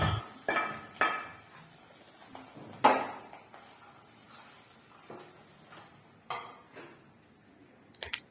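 A spoon clinks and scrapes against a pot as a turmeric tempering is stirred into rice for mango rice, giving a few sharp metallic knocks spread among quieter shuffling.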